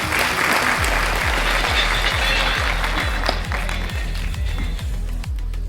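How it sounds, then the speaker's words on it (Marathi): Loud applause from the audience at an Ayurvedic company meeting in a Nashik auditorium, a dense sustained wash of clapping with a steady thumping beat running beneath it throughout. "जोरदार टाळ्या बाई तुमचं."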